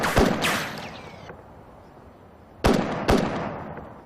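Gunfire aimed at the ground in a documentary reconstruction: four sharp, loud reports in two quick pairs, each snapping out and decaying into a faint echoing tail, with quiet between the pairs.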